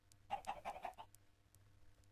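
Series of about five quick, close clucks from chickens in Minecraft, evenly spaced in a short burst, then a few faint scattered sounds over a quiet low hum.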